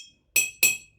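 Two bright, ringing clinks from glass milk bottles struck as percussion, evenly spaced and close, each decaying quickly with a glassy tone.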